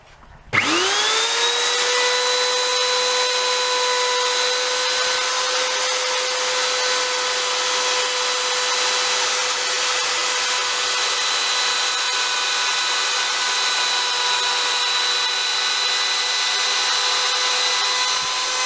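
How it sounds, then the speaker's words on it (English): A jigsaw roughly cutting a guitar body blank out of wood, a loud close motor whine that starts abruptly and runs unbroken and even for the whole stretch. "then I roughly cut it out with a jigsaw"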